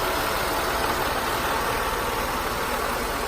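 A Mercedes 320SL's 3-litre V6, in very good condition, idles steadily with a smooth, even mechanical hum and a low rumble, close and continuous with no squeals or odd noises.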